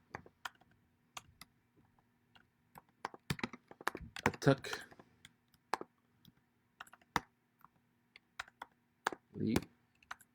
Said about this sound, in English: I don't like this Apple keyboard at all.